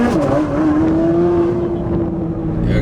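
Exhaust note from a Chevrolet Corvette C8 Z06 fitted with a Yonristic exhaust on stock mufflers: a loud, steady engine drone holding one pitch for about two seconds, then easing into a rougher idle, with no talking.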